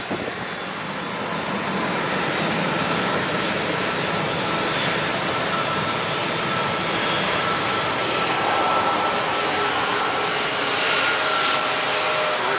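A jet airliner powers up for takeoff at San Diego International Airport, its broad, steady engine roar holding loud and constant throughout with a slight swell toward the end, no voices present.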